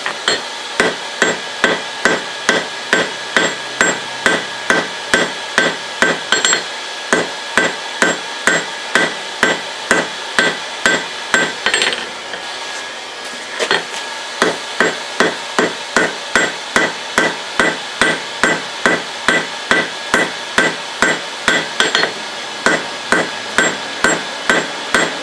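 Rapid, evenly spaced hammer blows ring out on a Damascus billet at forge welding heat, loud and close, with a short pause midway before the steady pounding resumes.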